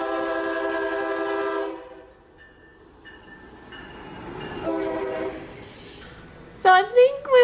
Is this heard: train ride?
yes